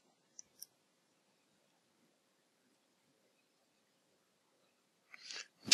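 Two quick mouse clicks come early during image editing in GIMP. A long quiet stretch follows, then a faint rustle near the end.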